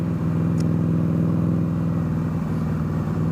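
Engine of a 2017 Victory Octane motorcycle held at a steady, loud near rumble while downshifting, with a low throbbing firing pulse running throughout and no voices.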